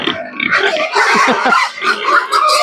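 Young fattening pigs grunt and squeal at feeding, a dense close chorus of loud overlapping oinks and snorts.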